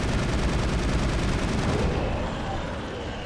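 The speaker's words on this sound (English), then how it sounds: "ready the assault rifle and take care of business" Rapid, dense assault rifle fire in Mass Effect, loud and sustained as a continuous rattle of shots that eases slightly near the end.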